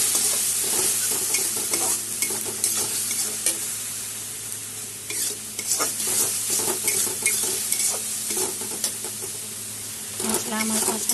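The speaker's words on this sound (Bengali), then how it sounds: "এখন সব একসাথে কষিয়ে নেব" Spices (chilli powder, cumin, turmeric and salt) being stirred and fried in oil in a pan for Bengali fish curry, steady sizzling with repeated scraping strokes of a spoon throughout, close and continuous.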